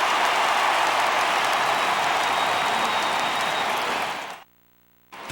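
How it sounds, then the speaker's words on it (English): Sustained crowd applause and cheering from a home ballpark crowd in the MLB The Show 18 baseball video game, a steady ovation for a departing starting pitcher that breaks off abruptly near the end. "So he receives a nice ovation from this home crowd"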